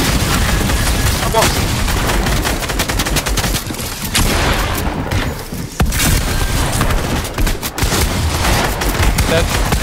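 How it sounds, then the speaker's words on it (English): A minigun fires in a Fortnite trio cash cup endgame, loud and dense with rapid sustained bursts, a brief lull near the middle, then continuous firing again, mixed with other game noise. "I got a minigun."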